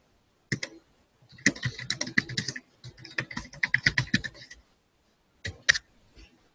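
Bursts of fast typing on a computer keyboard, close and crisp, come in three clusters separated by short pauses, with a couple of isolated key presses near the end and no voice.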